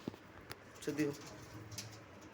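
Pigeons cooing in a loft, a faint, low coo rising briefly amid soft background noise and a few light taps.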